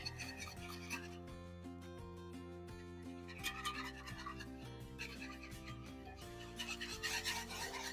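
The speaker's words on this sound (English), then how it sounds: "You want to hurry up with your whisk." A whisk scrapes rapidly and rhythmically in a pan as broth is stirred into flour for a thickening gravy for Swedish meatballs, a continuous close rasping with no talk.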